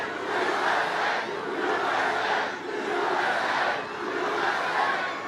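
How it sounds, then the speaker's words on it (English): A large crowd at a presidential campaign rally in Waterford Township, Michigan cheers and chants loudly in rhythmic swelling waves, a dense continuous roar of many voices. "Oh, what a crowd. This is some crowd. Wow. This is a big crowd."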